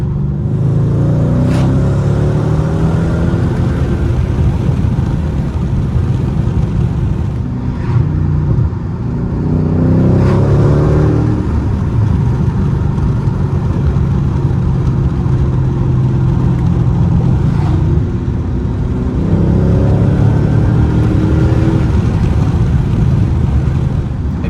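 A Mercedes W211 E55 AMG V8 engine rumbles steadily while driving, rising in several surges as it accelerates, with a deep, throaty exhaust tone throughout.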